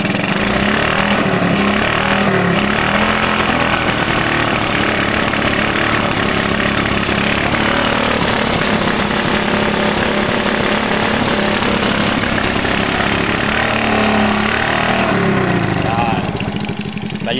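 A carbureted Suzuki Smash 110 motorcycle engine with a misfire runs loud and close, a continuous rough, throbbing drone that holds steady for the whole stretch.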